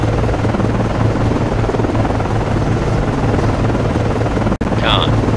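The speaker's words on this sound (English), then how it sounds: "Con, Flyco, launching aircraft." Rotor drone of an SH-60 helicopter lifting off from an Arleigh Burke destroyer in the naval game Cold Waters, a loud steady whirring thrum with wind-like rush, and a short radio voice call near the end.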